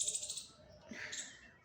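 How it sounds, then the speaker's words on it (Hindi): Small birds chirp outside a home window overlooking greenery, a quick run of bright, repeated chirps at first, then a single faint call, set against a low background hum. "पंछियों के चहचहाने की आवाज़ आ रही है।"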